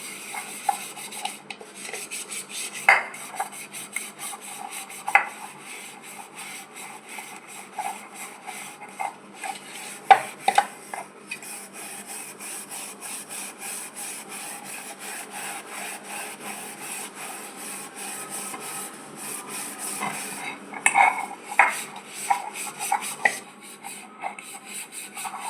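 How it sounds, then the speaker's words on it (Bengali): Scouring pad rubbing hard against a blackened metal item, a long run of close, rhythmic scratchy strokes with occasional sharper clinks and scrapes, no talk. "এখন আমি এই কসবাইটা দিয়ে ভালো করে ঘষবো।"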